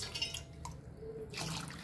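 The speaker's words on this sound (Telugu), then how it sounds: "నీళ్ళు వేసుకోవాలి." Water runs into a cooking pot over halved, washed potatoes and tomatoes, with a soft splashing and dripping that continues through the moment, close by and at moderate volume.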